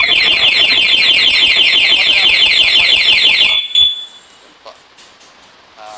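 A loud, rapidly warbling motorcycle anti-theft alarm on a Honda Navi wails continuously for several seconds, then cuts off abruptly, followed by a few faint clicks and chirps.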